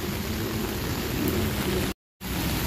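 Rain falls on Luneta Park in a steady, close patter and hiss, unbroken except for a brief dropout near the end, with no voices.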